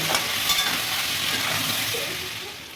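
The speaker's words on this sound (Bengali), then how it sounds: "আলু তো খুব ভালো করে ভাজা হয়েছে" Potatoes fry in hot oil for a mutton curry, a steady, close sizzle with faint stirring scrapes that eases off slightly toward the end.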